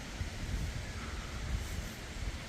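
Strong Hurricane Ian winds at a pigeon loft, heard as a low, steady buffeting rumble across the microphone with small gusty surges throughout.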